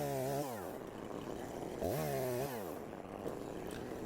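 A gasoline chainsaw fells a tree. The engine drones steadily and revs up sharply twice, with rising and falling pitch sweeps, heard fairly close and alone.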